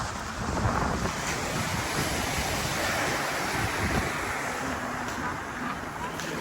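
Continuous rush of surf on Karon Beach, Thailand, mixed with heavy wind buffeting the microphone.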